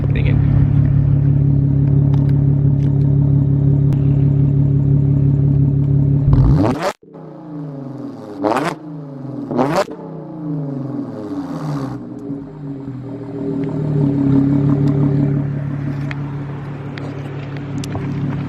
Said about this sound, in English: I'm gonna give y'all a rev real quick.